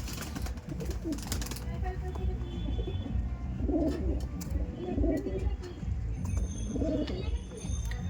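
Pigeons coo in low repeated throaty phrases among a flock, several calls in a row over a busy background, with someone talking through much of it.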